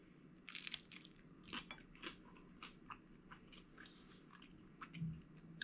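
Someone chews turkey bacon at breakfast, close but quiet, with crisp crunchy bites at first. Softer, irregular chewing and a few faint clinks follow.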